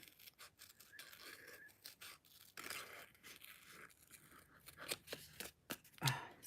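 Sticky scissors snip through paper during cardmaking, giving a series of quiet, irregular crisp cuts and scraping rasps, close to the microphone in a calm room.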